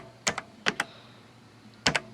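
Keys clatter on a Panasonic KX-W1525 daisy-wheel word processor in a few quick bursts of two or three strokes, separated by short quiet gaps.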